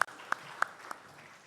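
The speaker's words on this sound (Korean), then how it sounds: "우리 하나님께 박수 영광 올려드립니다." A church congregation at a Sunday service gives a few sparse, evenly spaced claps, with quiet room tone between them.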